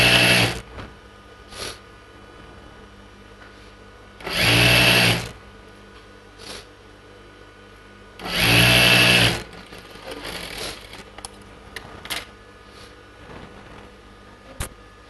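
A sewing machine stitches a churidar pant seam in two loud bursts of about a second each, close by, with quieter clicks and handling noises between them and no talking.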